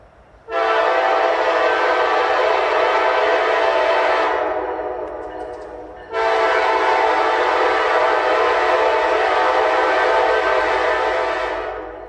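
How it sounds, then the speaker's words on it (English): Norfolk Southern SD70ACE No. 1068 in Erie green and silver heritage paint leads a freight train past, its horn blaring loud and close in two long blasts over the rumble of the locomotive. "Led by NS 1068, an SD70 Ace painted in the Erie Railroad's green and silver paint"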